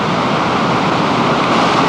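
San Antonio Creek in flood beneath the Highway 33 bridge in February 1998, carrying heavy debris: a loud, constant broadband roar of churning water, close and unbroken, with no voices.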